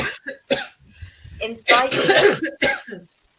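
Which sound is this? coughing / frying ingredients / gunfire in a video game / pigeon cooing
coughing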